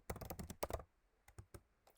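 Quick bursts of typing on a computer keyboard as a name is entered, a rapid cluster of close, crisp key clicks followed by a few sparse, separate taps after a short pause.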